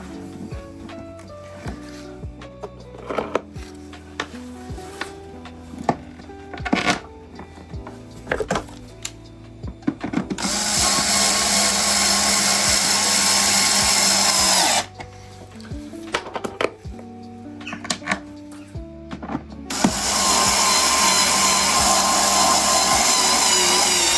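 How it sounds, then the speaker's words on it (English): A Mazda MX-5 is bolted back together during a budget service, with metallic clinks and taps of hand tools and two long, loud bursts of a power tool or impact driver running several seconds each. "Let's get this in and get her bolted back up."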